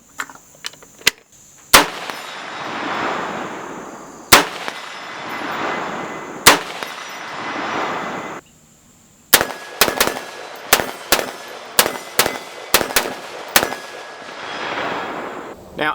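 Sharp, loud rifle shots with 55 grain full metal jacket ammunition at a 50-yard range, fired from a rifle with a Trijicon TA44 compact ACOG. Single cracks come in irregular spacing, then a quicker cluster follows a brief silence.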